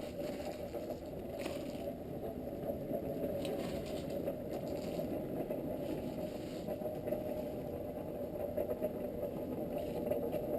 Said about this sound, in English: Just a nice gentle airflow from the blower.